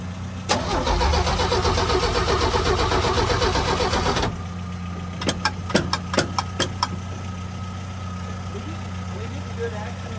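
A 1966 Chevrolet C10 engine cranks and catches briefly, a loud churning rumble for a few seconds that suddenly cuts out, followed by a series of sharp clicks and knocks.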